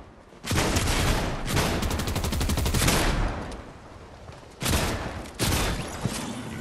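Video game gunfire erupts in dense automatic bursts, loud and close, with rapid rattling volleys separated by brief lulls and a few sharper single shots near the end.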